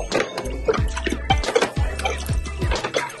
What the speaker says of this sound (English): let the water go in. I'm filling it up